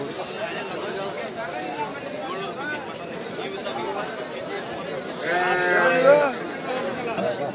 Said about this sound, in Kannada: ಎಲ್ಲ ಮರಿ ಕುರಿ.